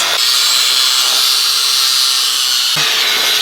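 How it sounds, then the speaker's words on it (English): During a bike repair where old parts are being reused, a power grinder runs loud and continuous right up close, a harsh steady whine that shifts slightly in pitch near the end, with no talking. "Let me just get away a little bit because it is noisy next to the grinder"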